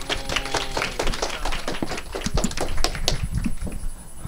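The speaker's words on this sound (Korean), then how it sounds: "크게 박수를 해주세요." An audience at a customs broker exam strategy seminar claps for a few seconds, a close, uneven patter of many hands that thins out toward the end.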